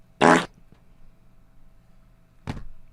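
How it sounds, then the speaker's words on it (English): Two short, loud, close farts, the first a buzzy half-second blast and the second a briefer burst about two seconds later, with quiet background in between. "That kind of sounds like a frog fart."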